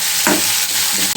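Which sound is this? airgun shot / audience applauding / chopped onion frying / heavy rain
chopped onion frying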